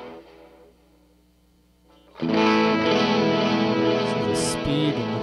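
An electric guitar runs through a Line 6 Echo Pro digital delay in modulated mode: a quiet, sparse passage gives way to a loud, dense, distorted chord wash with wavering, echoing repeats that sustains to the end.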